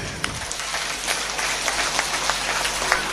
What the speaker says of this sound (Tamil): உங்கள் கரகோஷத்தை கொடுங்கள்